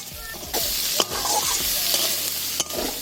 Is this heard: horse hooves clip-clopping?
no